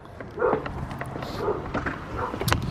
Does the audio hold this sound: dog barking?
yes